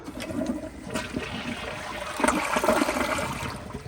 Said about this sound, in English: here's a full flush